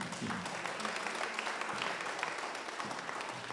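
A congregation at a French-language church service applauds and acclaims the Lord, a sustained wash of many hands clapping at moderate distance, fairly soft and even, with faint voices mixed in.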